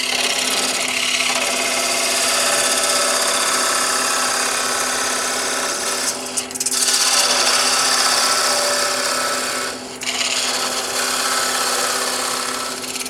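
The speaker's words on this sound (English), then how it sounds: "Speed is right at 800 RPMs. D-Way Tools parting tool." A D-Way Tools parting tool cuts steadily into a glue block spinning on a wood lathe at 800 RPM, giving a loud, continuous rasping scrape with two brief dips as the cut pauses, over a steady motor hum and no voices.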